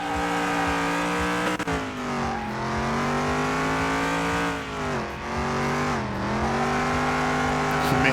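A 1969 Chevy Nova engine in Car Mechanic Simulator 2021 holds a loud, continuous high-rev drone with shifting pitch through gear changes and slight dips, running steadily for the whole stretch.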